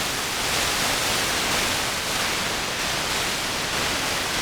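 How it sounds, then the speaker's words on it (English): Steady broadband white noise from the noise generator of a Novation Summit hybrid synthesizer, a constant even hiss spanning the whole range without pauses or change in level. "You also have a noise, white noise generator."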